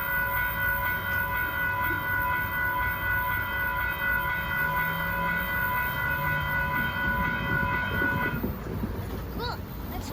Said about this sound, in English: That was the Amtrak.